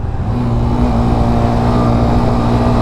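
A Hero Xtreme 125R motorcycle engine at speed after a downshift to a lower gear, a loud, close, sustained drone with a steady high-revving tone under rushing wind.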